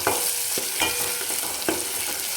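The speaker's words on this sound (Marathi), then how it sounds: "कांदाही चांगला सोनेरी कलरवर परतून घ्यायचा आहे आपल्याला." Chopped onion frying in a pan while being stirred, a constant close sizzle broken by repeated scraping strokes of the spoon, with no voices.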